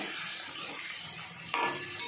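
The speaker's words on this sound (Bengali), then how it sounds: "এবার মশলাটা দিয়ে ভালো করে কষে নেব।" New potatoes fry in a pan with ground spice paste for a hilsa fish curry. A steady bright sizzle runs throughout, with two sharp utensil clinks near the end.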